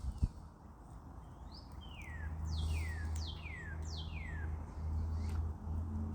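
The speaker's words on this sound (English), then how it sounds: "It's the bird's prerogative to continue to sing." A bird sings a series of clear, descending whistled notes, repeated several times at a moderate distance over a low steady background hum.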